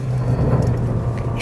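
A Jeep Compass 4xe plug-in hybrid drives off-road, giving a steady low engine and road rumble with a constant drone throughout and no talk.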